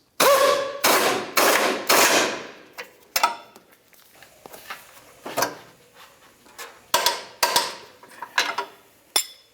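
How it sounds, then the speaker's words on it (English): Wrench and metal tool knocks while tightening the nut on a front control arm of a 2010-2013 Nissan Versa: several loud close thuds and ratchety clanks in an irregular series, then scattered sharper taps. "Let's get our wrench up there. We'll go ahead and bottom this out, and then we're going to torque this to 107 foot-pounds."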